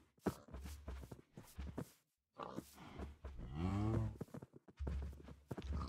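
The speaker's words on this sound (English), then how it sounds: "Get him away, cow." A cow in Minecraft gives a clear, drawn-out moo with a wavering pitch, set among softer scattered game sounds and short pauses, fairly quiet overall.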